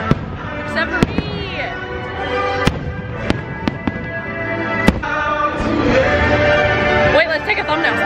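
Fireworks bursting at a Disney park: a series of sharp, loud bangs and crackles at irregular intervals over a dense crowd murmur, with a whistling rocket rising early and busier crackling near the end.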